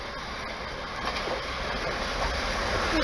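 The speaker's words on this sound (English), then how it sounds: "Right, we have a passing through train." A Class 375 train passes through Kearsney station at moderate distance without stopping, a broad steady roar that slowly builds, with faint rhythmic clatter of wheels on track.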